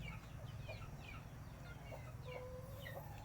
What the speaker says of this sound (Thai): นี่คือไก่ที่เลี้ยงเอาไว้นะครับผม